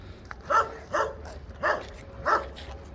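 A dog barks four times in a steady rhythm, close by and fairly loud, with short pauses between barks.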